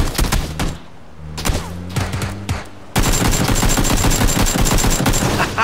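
Gunfire in the video game PUBG crackles in scattered single shots, then breaks into a dense, continuous burst of automatic fire that fills the final seconds, loud and close.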